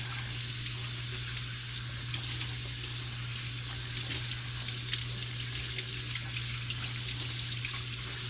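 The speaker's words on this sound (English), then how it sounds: "We're going to get some cold water here." Cold tap water runs steadily over salt-cured beef being rinsed for homemade bacon, a continuous close splashing hiss with a low steady hum underneath and no pauses.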